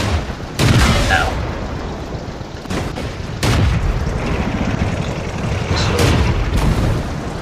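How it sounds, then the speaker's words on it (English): Tank cannon fire in the World of Tanks video game lands on the player's MS-1 light tank, with several heavy booming impacts spaced apart over a constant rumbling engine drone. "so right now I'm being shot at"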